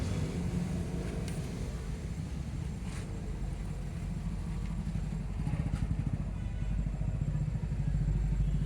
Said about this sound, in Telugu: ఫోర్ పిస్టన్ ఇంజన్ అండి